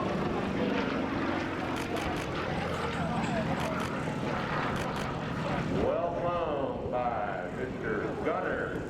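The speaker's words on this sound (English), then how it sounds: "The Pitts Model 12 is a relatively recent Pitts design." A Pitts Model 12 propeller plane flies at an air force base airshow, its buzzing engine droning at a distance beneath continuous commentary, with the pitch sliding as it passes through maneuvers.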